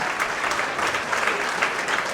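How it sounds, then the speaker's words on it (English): Brief, steady applause from a retirement dinner audience, a dense patch of clapping at moderate volume lasting a couple of seconds. "Let's give Ruby Cotton a nice round of applause"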